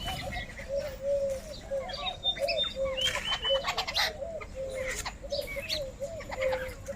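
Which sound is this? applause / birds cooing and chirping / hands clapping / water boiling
birds cooing and chirping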